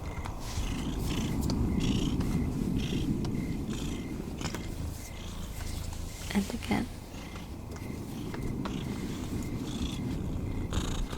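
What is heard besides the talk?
cat purring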